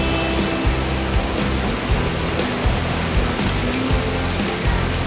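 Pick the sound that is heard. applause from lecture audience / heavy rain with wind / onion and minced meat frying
heavy rain with wind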